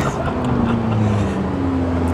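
A McLaren 600LT sports car accelerates hard, heard from inside as a loud, continuous engine drone with rising tones over dense road and wind roar.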